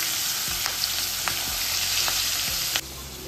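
Mustard seeds, asafoetida, turmeric and washed vegetables sizzling in hot oil in a pan for a Marathi bhogi bhaji, a steady close frying hiss with a few stirring scrapes and light crackles.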